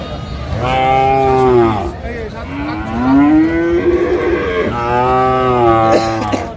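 Sahiwal cattle at a market moo loudly and close by, three long drawn-out lows in succession with brief pauses between them.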